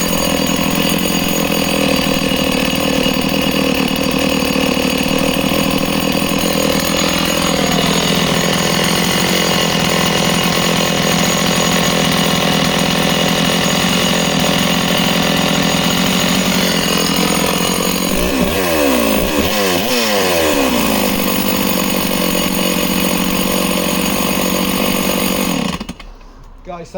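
A Stihl 066AV 90cc chainsaw from the 1990s runs loud and close, its engine holding a steady buzzing idle, then revving up and down near the end before cutting off abruptly.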